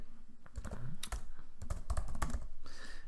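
Quick clicking of keys on a computer keyboard, a close, irregular run of taps with short pauses and brief bursts of rapid strokes.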